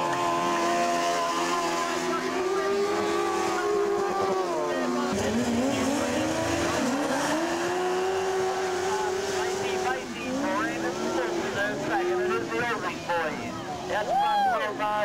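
Sidecar speedway machines race around the track, their engines giving a continuous loud, rising and falling whine that sweeps up and down as they pass through corners and straights, with a commentator talking throughout.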